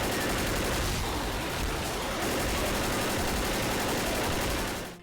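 Continuous loud weapon gunfire from the zombie shooter Left 4 Dead, a dense rattling stream of rapid shots that holds steady throughout and cuts off abruptly at the end.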